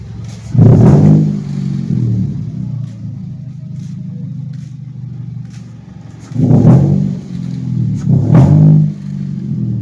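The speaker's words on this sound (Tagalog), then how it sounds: "Ayan, marami na sila dito na nakabidot exhaust." A Toyota Vios fitted with a loud aftermarket exhaust revs close by, one sharp rev, then a low idling rumble, then two more throaty revs in quick succession.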